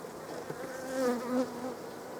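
A close, continuous drone of honey bees at an opened beehive, their buzz rising and wavering in pitch as individual insects pass near, with no voices.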